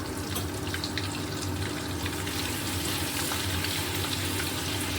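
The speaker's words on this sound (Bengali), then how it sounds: "এবার এই তেলের মধ্যে আমি একটু বাটার দিয়ে দিলাম।" Butter sizzling in hot oil in a pan, a steady close crackling hiss that holds throughout with no talk.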